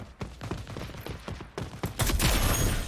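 Rapid bursts of gunfire in the Rogue Company shooter on the Dallas map, including King Cobra weapon fire, crack in quick clusters, then swell into a dense, loud barrage near the end with no talk over it.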